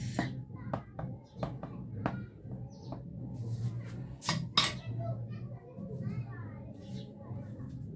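A fork pricking amasi scone dough, a series of sharp light taps and clinks at irregular intervals over kitchen background noise, with children's voices and birds faintly around.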